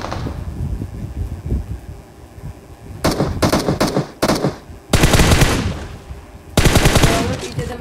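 Video game gunfire rattles out in loud, close automatic bursts, several short volleys and two longer sustained streams, with a voice talking faintly in the background.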